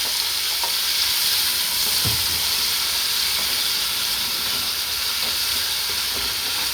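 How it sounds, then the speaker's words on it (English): Natural seasoning sautés in a pan with a loud, continuous hissing sizzle that stays even throughout, and a few soft knocks of stirring come through it. "I'm gonna saute them"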